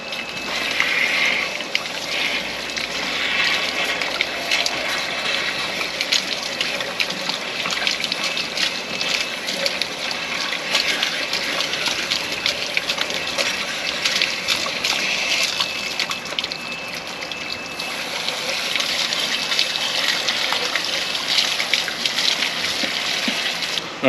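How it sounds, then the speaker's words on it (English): A long, continuous gush of water draining out of an RV water heater during a vinegar descaling flush, with an even splashing stream close by and no pause. "So we just want to flush it real good,"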